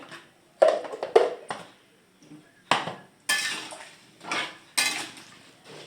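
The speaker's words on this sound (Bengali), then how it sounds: "এবার এটা নেড়ে ভালো করে নেড়ে নুনটা মিশিয়ে" A spoon stirs taro flower curry with salt in a metal pan, making several distinct scraping clanks in separate bursts with quiet gaps between, close and clear, no speech.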